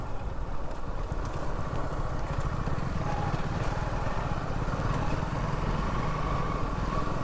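Steady engine drone from a Suzuki Gixxer 250 motorcycle on a morning ride, a continuous low rumble with wind noise running unbroken throughout, fairly loud and close.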